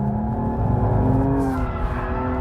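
A BMW M235i drifts at full throttle with the engine held near 6,500 RPM, a loud, sustained, droning engine note with tires squealing on the pavement throughout, close and continuous with no speech.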